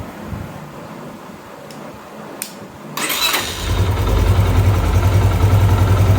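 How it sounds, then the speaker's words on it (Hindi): A Yamaha YBR125 motorcycle with a butterfly carburetor cranks and catches without throttle, then settles into a steady, loud idle, close by with no speech. "और अभी मैं इसको दोबारा स्टार्ट करता हूँ।"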